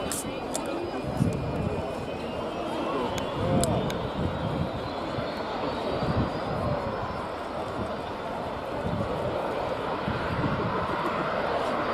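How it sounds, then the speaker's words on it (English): A jet hovering at RNAS Yeovilton International Air Day in 2019 gives a steady, continuous roar with a high whine sliding in pitch. A commentator talks over it throughout. "coming into the hover, once it's in a stable hover, the jet's really doing everything"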